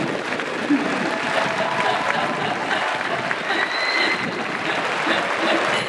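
An audience at an open talk event at the Busan International Film Festival breaks into dense, sustained applause, a crowd of many hands clapping steadily throughout with some voices mixed in.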